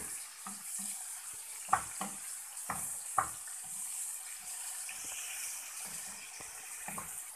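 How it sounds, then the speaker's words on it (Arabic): Meat sizzles quietly in hot oil seasoned with salt and black pepper, a soft steady fry broken by scattered clicks and light stirring knocks from the pan. "نزلت باللحمة على زيت سخن، وحطيت عليه على طول الفلفل الأسود والملح"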